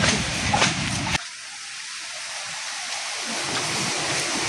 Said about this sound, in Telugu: water sound